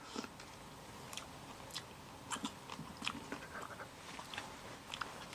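Crunchy chewing and biting on a mouthful of crickets, close up, with irregular crisp crackles and munching sounds over a steady rustle, no talking.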